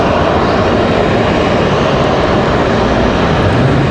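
Frontier Airlines plane at the end of the runway at Raleigh Durham International airport, engines producing a steady, loud broadband roar that holds constant throughout without talk.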